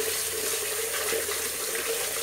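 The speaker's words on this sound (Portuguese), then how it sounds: "Vou passar uma água aqui no liquidificador." Tap water runs steadily into a blender jar, a continuous close rushing splash with a slight hollow ring.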